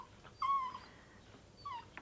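A puppy lets out two short, high whimpers indoors beside a rigid heddle weaving loom. Both are faint, with a quiet pause between them.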